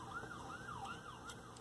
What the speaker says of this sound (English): listen to some people dying in an ambulance